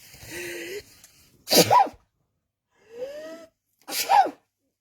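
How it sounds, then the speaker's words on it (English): A person sneezes twice, each one preceded by a sharp gasping inhale, with quiet pauses in between. "I'm going to sneeze, I do apologise"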